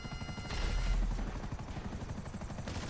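Game helicopters in a PS3 shooter: a rhythmic, pulsing rotor thump that swells in the middle and keeps beating steadily, mixed with game effects and no talk.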